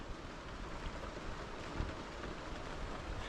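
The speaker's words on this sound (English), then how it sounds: "Well, it's raining again." Steady rain falls nearby on the steel deck of a Dutch barge, a dense, even hiss of drops hitting surfaces, continuous and unbroken with no voices.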